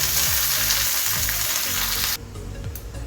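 Curry leaves crackle and sizzle loudly in hot coconut oil, a close, dense frying hiss that suddenly drops to a quieter simmer just past two seconds.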